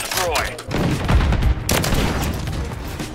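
Loud sniper gunshots crack out in a video game, a couple of sharp blasts with echoing tails over a busy din of combat.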